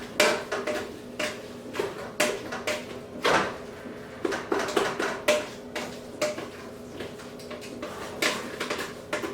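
A spoon mixes butter into potatoes in a pot, producing repeated close metallic scrapes and clinks in an uneven rhythm.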